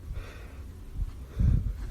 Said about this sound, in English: he's sniffling and crying.